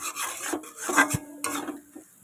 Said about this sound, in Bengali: এবার এটাকে ভালো করে নাড়াচাড়া হয়ে যাবে